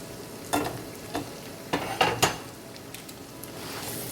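Onion, garlic, ginger, green onion and thyme sautéing in a pan, a soft steady sizzle with several sharp scraping stirs of a utensil against the pan.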